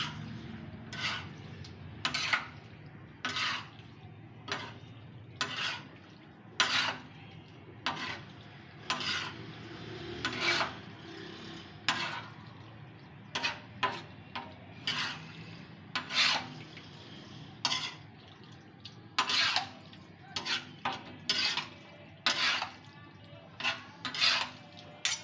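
Repeated scraping and clinking of a utensil against a tawa, stirring liver with garlic-ginger paste, in steady irregular strokes over a low sizzle, close and fairly loud.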